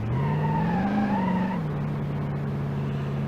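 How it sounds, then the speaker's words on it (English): A station wagon drifts in the BeamNG.drive driving game, its engine droning loud and steady, rising slightly in pitch before settling into a constant hum. "You can drift the wagon."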